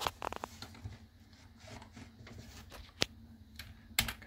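Keys clatter on a computer keyboard while Control C is pressed to stop a program on Ubuntu, scattered sharp clicks with a few louder taps near the end over a faint hum.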